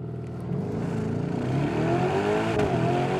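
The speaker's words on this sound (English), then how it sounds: "let's see if launch control is easy to do in this car" A Lamborghini Urus launches under launch control, its engine note building from a low idle into a rising, strengthening acceleration roar heard from inside the cabin, moderately loud with no speech.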